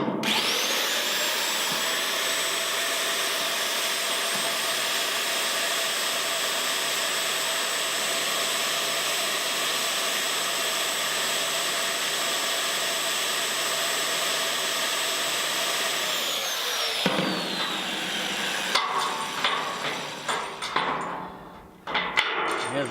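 A slow power wrench drives bolts, making a loud, steady mechanical whine that runs unbroken for about seventeen seconds, then winds down into scattered clanks and handling noise.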